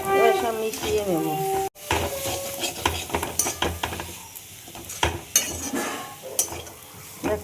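A breakfast stuffing is mixed with sugar, milk and amchur powder. A voice talks briefly at first, then comes a run of soft, irregular scraping and clicking strokes as the ingredients are stirred together.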